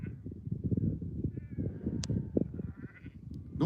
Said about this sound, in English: there's a lot of sheep there